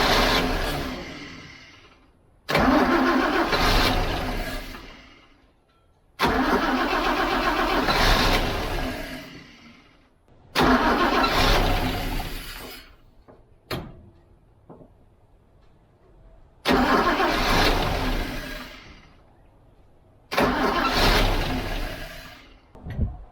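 A car engine cranks and catches repeatedly, firing into several loud rough bursts of running and revving that die away between attempts, with short quiet gaps and clicks in between.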